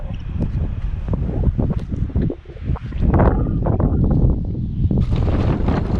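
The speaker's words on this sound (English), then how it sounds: "This wind is brutal." Strong wind roars and buffets the microphone continuously while cycling a remote bike route in the Everglades, loud and gusty throughout with no talk.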